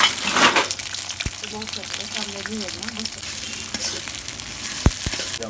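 Onions and spices hit hot oil in a wok with a continuous crackling sizzle, broken by a few sharp clicks of a utensil, while a voice carries on faintly underneath.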